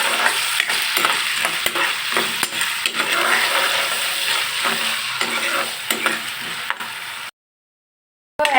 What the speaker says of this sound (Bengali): কড়াইতে তেল গরম করে কর্ন বা ভুট্টাগুলো দিয়ে দিলাম